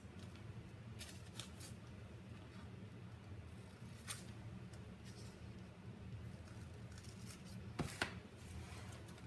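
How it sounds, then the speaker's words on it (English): Scissors cutting out butterfly fabric pieces for a barn quilt hexie project, with a few faint snips and rustles of cloth, quiet and close against a low background hum. "So I'm just gonna cut out my butterfly fragments."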